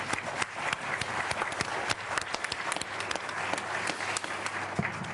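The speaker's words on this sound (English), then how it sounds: "they deserve a big applause" Audience applause for award panelists at a World Economic Forum session, sustained even clapping from a large seated crowd with no talking.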